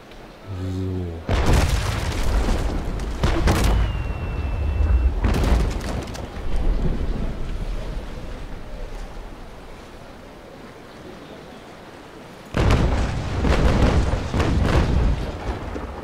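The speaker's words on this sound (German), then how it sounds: "ich habe jetzt zum Beispiel eine rollende Breitseite, die fängt vorne an und endet hinten" A sailing warship in the Naval Action game fires a rolling cannon broadside, loud booming volleys rumbling in long bursts over wind and surf, then falling quiet before another heavy barrage.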